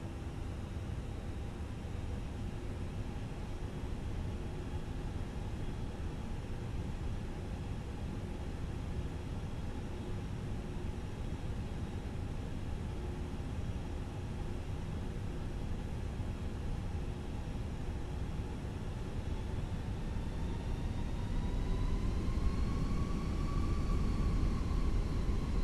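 A Fenix Airbus A320 taxis in a flight simulator, giving a steady, continuous engine hum and whine with no talking. Near the end the hum rises a little and a higher tone glides upward.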